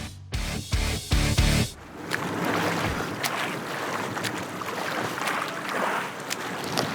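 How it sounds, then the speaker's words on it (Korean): Paddling an IBS inflatable boat across the sea: a few heavy thumps and splashes at the start, then steady sloshing water and wind noise rushing past the microphone, loud and continuous. "2단계 IBS에 도착 후 1km 패들링."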